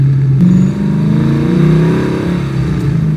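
An LS7-swapped, track-prepped Porsche 914 with a 525 whp engine, heard loud and close as a deep V8 rumble that rises and falls through throttle blips, with no talking over it.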